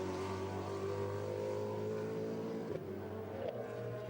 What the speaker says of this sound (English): great sound from that car